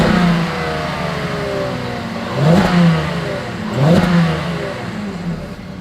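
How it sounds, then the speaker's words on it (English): A 2021 Volkswagen Atlas engine idles at the exhaust, then blips twice in quick succession, each rev rising sharply and falling back to a steady close-range rumble. "As always, here is that exhaust clip."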